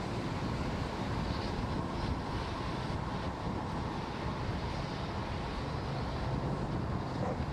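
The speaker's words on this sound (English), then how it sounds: "Merlin engines have throttled back up" Falcon 9 rocket with Merlin engines on a Starlink mission, heard as a steady, dense broadband roar throughout ascent, constant and distant with no talk over it.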